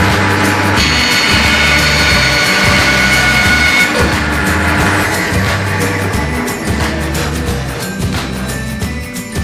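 A bandsaw cuts through a wood block meant for lino printing, producing a loud, close, continuous whining rasp with a steady low motor hum underneath, unbroken for the full stretch.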